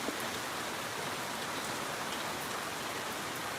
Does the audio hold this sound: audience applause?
no